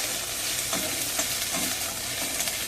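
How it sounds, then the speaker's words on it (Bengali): Onions sizzling in hot oil in a wok for a Bengali fish curry, a continuous loud sizzle with repeated scraping stirs of a spatula, close up and with no voices. "মাছের ঝোলের জন্য কড়াইতে পেঁয়াজ"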